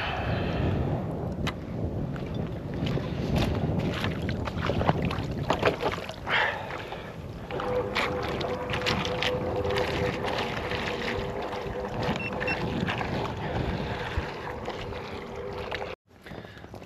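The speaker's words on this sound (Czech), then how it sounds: "venku vítr neskutečný" Strong wind outdoors at a lake during carp fishing, heavy gusting buffeting and roaring across the microphone almost without pause, with water sounds beneath and a brief sudden drop near the end.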